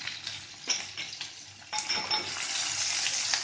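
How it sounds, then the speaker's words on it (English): Yellow and red capsicums sizzle as they fry in a pan, a steady close hiss with clinks and scrapes of a utensil stirring against the pan. "Now I'm going to add all the capsicums. Here goes the yellow capsicum, red capsicum,"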